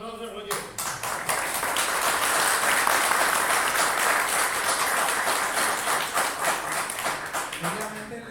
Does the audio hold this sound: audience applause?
yes